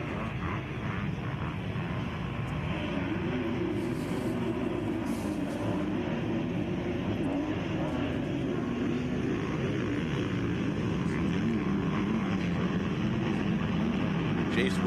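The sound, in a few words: motocross dirt bikes racing, Kawasaki and KTM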